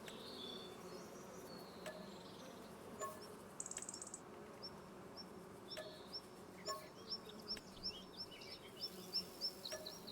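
Insect buzzing from beehives in the Farming Simulator game, a soft continuous drone of bees with faint chirping layered over a steady low background, no one talking.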